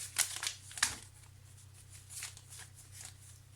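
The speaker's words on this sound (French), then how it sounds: "je vais prendre 3 cartes pour ce premier trimestre" Tarot cards being shuffled and drawn, giving a few quick papery riffles and slaps near the start, then quiet soft handling over a low steady hum.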